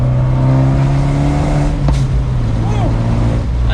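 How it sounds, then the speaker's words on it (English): A 2020 Fiat 124 Spider Abarth driving slowly with the top down, its exhaust a steady, low droning hum heard from the cabin amid wind rush. "let's go ahead and listen to that exhaust with the top down"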